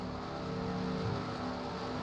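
Race cars circle at the 2009 NASCAR All-Star Race in Charlotte, a steady, continuous engine drone at moderate distance with no distinct pass-by, running evenly throughout.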